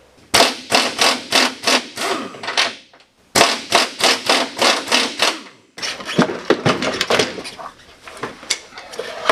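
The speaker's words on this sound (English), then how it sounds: "we're just resorting to air tools" Pneumatic air tools loosening stuck bolts on a crashed snowmobile during a rebuild, loud rapid hammering bursts in three runs of repeated impacts, with brief pauses between them.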